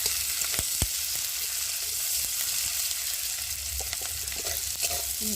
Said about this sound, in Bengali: একটু ভালো করে ভেজে নিই